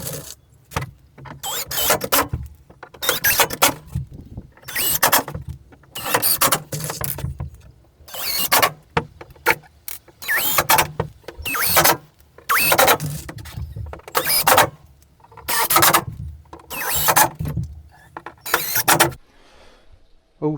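Camper van floor panels are screwed down with a power driver: repeated loud bursts of whirring and grinding, each a second or two long, separated by short pauses, close to the listener.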